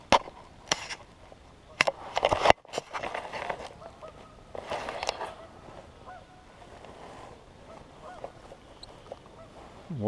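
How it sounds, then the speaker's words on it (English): Several geese that have just landed on a lake at Fort Knox honk in scattered calls over the water, some sharp and nearby, others fainter, with quieter stretches of ambient noise between. "Got all them geese that just landed right out in the water,"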